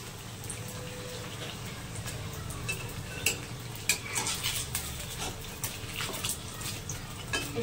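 Momos fry in hot oil in a pan and get flipped one by one, a low, quiet bubbling sizzle punctuated by light clicks and taps of the utensil against the pan, with no one talking.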